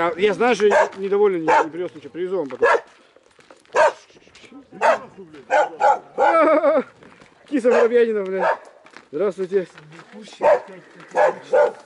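A small dark fluffy dog barks repeatedly in short, loud, irregular bursts, sometimes yipping, while someone talks in between and over the barking.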